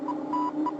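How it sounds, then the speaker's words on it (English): A sonar radar beep aboard a cartoon spaceship: a steady electronic tone that repeats in short evenly spaced pulses over a continuous low hum, close and clear, with no talking. "Hear that beep?"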